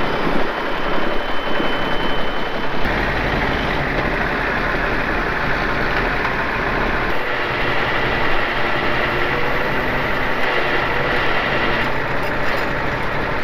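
A heavy wrecker tow truck engine runs at a steady, loud, close rumbling idle to build air pressure before a recovery of a stuck dump truck, continuous with no talk.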